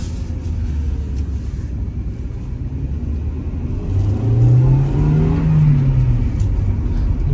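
A 1995 Honda Integra SiR-G with a 1.8-litre VTEC engine and manual gearbox drives along, its steady low engine rumble and road noise swelling as it accelerates partway through, with no talk.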